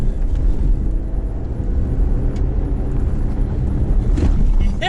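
A Jeep Gladiator Mojave truck driving at high speed in the Mojave desert, a loud, continuous low rumble of engine and road and wind noise from inside the cab, with a brief vocal sound over it.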